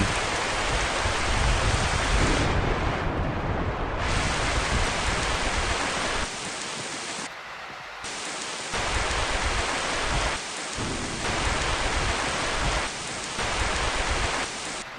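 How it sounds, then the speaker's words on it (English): Heavy rain and storm effects in a Godot 3D island video game make a steady, dense, loud wash of rain noise that dips briefly a few times and carries no voices. "Okay, so rain, heavy rain, storm."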